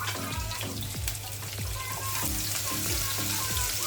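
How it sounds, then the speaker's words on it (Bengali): Chopped onion and green chili sizzle in hot oil in a pan, a continuous crackling fry with small popping bursts, close and steady with no talking. "এখন আগে থেকে কেটে রাখা পেঁয়াজ আর কাঁচামরিচ দিয়ে দিব ভাজার জন্য।"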